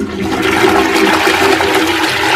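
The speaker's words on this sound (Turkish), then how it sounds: "Şimdi sifonu çekip" A household toilet being flushed after bleach cleaning, a loud, close, steady rush of swirling water lasting a couple of seconds, with no voices.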